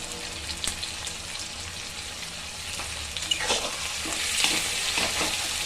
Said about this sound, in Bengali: চিংড়ি মাছগুলো এর সাথেই ভাজা হয়ে যাবে।